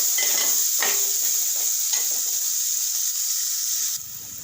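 Crushed ginger, garlic and green chili sautéing in a pan for a Kerala tapioca and crab curry, with a steady bright sizzle and occasional stirring scrapes.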